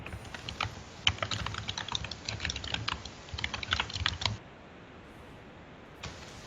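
Rapid typing on a computer keyboard, close and clear, with a dense run of clicky keystrokes for about four seconds, then quiet except for a single final tap.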